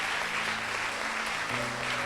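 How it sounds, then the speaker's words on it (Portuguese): A church congregation claps in praise of Jesus during a service, a steady, moderately loud patter of many hands, with sustained musical tones in the background. "vamos aplaudir a Jesus"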